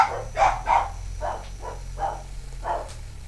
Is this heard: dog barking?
yes